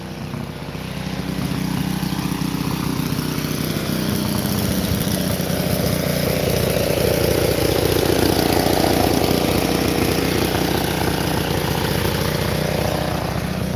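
A petrol lawn mower engine running at a raised idle after surging, a steady continuous drone with even low rumble throughout, close to the microphone and alone without talk.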